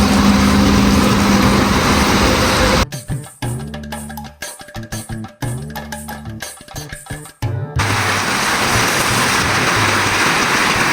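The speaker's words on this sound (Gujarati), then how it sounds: "જોરદારનો વરસાદ આવે છે." Heavy rain pours down in a steady, loud wash during a pilgrimage journey; the downpour is briefly broken midway by a choppy, sputtering engine-like noise before the rain returns.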